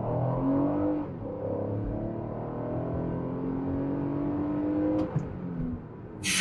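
A Lexus RX with V6 power, driven in normal mode, accelerates hard uphill at full throttle, its engine note rising steadily and loudly for several seconds with a brief exclamation near the end.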